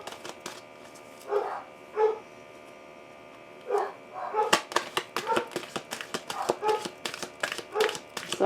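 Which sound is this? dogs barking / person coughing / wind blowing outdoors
dogs barking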